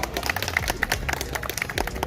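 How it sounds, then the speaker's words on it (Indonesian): A group of people at an outing game session clap their hands in a dense, uneven patter of quick slaps, fairly close and steady throughout, over a low background hum. "tepuk tangan dulu dong."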